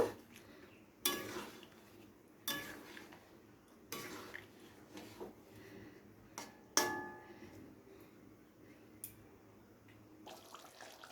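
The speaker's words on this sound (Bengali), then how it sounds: "পনিরগুলোকে দিয়ে খুব ভালো করে হালকা হাতে নাড়াচাড়া করে একটু ফুটতে দেব" Paneer stirred gently in simmering gravy, heard as sparse metallic clanks and knocks of a utensil against a pot with quiet bubbling and faint kitchen sounds between, all fairly soft.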